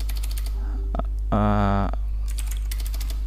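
Short bursts of computer keyboard typing as a command is entered on a Debian system, quick clustered key clicks before and after a brief tonal beep, over a steady low hum.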